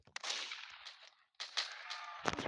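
Pistol shots in a Roblox video game, a few sharp bursts in quick succession with a brief gap between groups, fairly loud and close with no talking.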